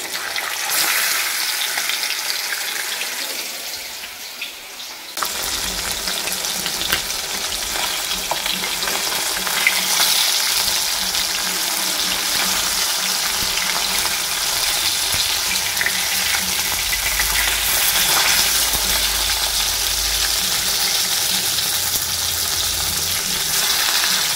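Fish fry in a small wok, a loud, steady sizzle with spattering crackles that swells after a brief quieter moment near the start, then holds strong and close to the end.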